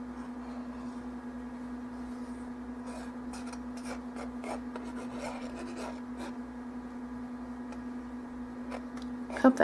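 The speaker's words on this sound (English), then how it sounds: "I hope that scraping's not really loud on the camera" Paper being scraped while scrapbooking a mini Christmas album: faint, irregular scratchy strokes close by, sitting over a steady low electrical hum, with no speech.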